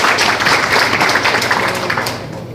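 An audience applauding at an indoor forum in Busan: a loud, steady patter of many hands clapping, sustained throughout and easing off slightly toward the end.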